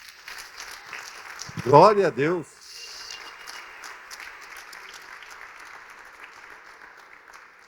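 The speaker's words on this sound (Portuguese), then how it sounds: "Vamos dar uma salva de palmas para Jesus" A church congregation at a Sunday service claps in a short, loud burst of applause after a preacher's spoken phrase, then settles into a low murmuring room tone.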